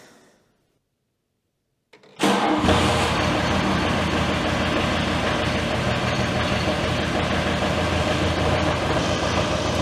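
After a short hush, the engine of a homemade DIY mini loader abruptly catches and starts, then settles into a loud, steady idle running close by, with its hydraulic pumps not yet engaged.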